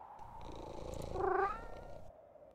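Cats in the Mushroom Cats video game, a soft low purr rising briefly into a short vocal trill, quiet and close, no talking.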